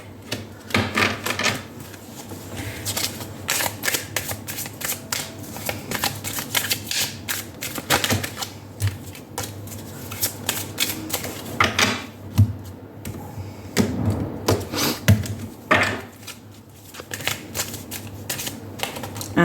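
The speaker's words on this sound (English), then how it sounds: "I want to take out one card from the Prism Oracle for you as well" Prism Oracle cards handled and drawn from a deck, giving steady close shuffling, riffling and rubbing with frequent quick taps for about twenty seconds, no voice.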